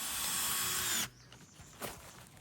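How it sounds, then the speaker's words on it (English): Power drill driving a big screw stake into the ground at a lakeside forest campground, a loud continuous whir for about a second that cuts off abruptly, followed by quieter outdoor background with a faint rustle. "he drills in a big screw thing and it's good to go"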